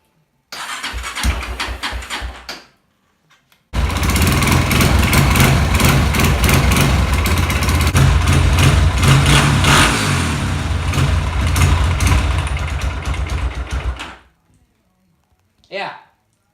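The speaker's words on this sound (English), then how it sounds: "there's a really bad rattle noise up here that I don't know if you guys can hear or not" A Honda CRF230F dirt bike starts briefly, cuts out, then restarts and runs loud and close for about ten seconds with a rattle in the engine before shutting off.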